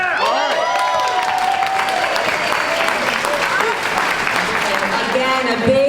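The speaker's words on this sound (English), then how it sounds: "a big round of applause to everyone that is actually making a difference" An audience at a high school event breaks into sustained, dense applause, loud and close throughout, with a few scattered cheers mixed into the clapping.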